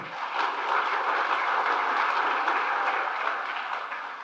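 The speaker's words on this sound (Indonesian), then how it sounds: "Tepuk tangan untuk beliau." An audience applauds the President of Indonesia at an agricultural self-sufficiency event, giving a dense, sustained clapping that holds steady throughout.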